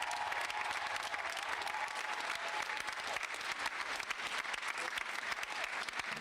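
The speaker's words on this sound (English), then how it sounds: "give our First Lady another round of applause" An audience at a memorial service for George Floyd in Denver, applauding together in a dense, sustained round of clapping that fills the room from start to finish.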